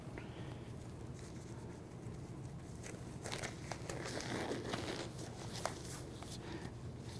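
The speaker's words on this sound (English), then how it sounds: "Now I'm going to don my gloves." Snug-fitting gloves being pulled on by hand before phlebotomy practice, soft close crinkling and stretching with brief snaps, busier in the second half.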